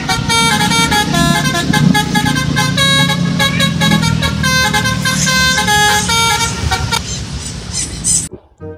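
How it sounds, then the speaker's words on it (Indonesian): A Lorena bus goes by, blaring a loud, musical multi-tone horn that plays a continuous melodic sequence with a rumbling engine underneath, then cuts off abruptly near the end. "Wah, yang ini ada bus Lorena teman-teman."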